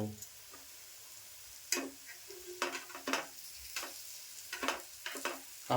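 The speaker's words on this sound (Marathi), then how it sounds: "आता परतून घेते" Sliced suran (elephant foot yam) sautéing in a pan, with a steady soft sizzle under a string of sharp scraping and tapping stirs spread across the clip; close and fairly quiet, no voices.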